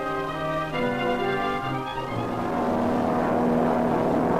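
A standard Air Force propeller airplane in flight, with a loud, steady engine drone and prop hum heard from inside or nearby, shifting pitch slightly partway through and continuing unbroken with no talking.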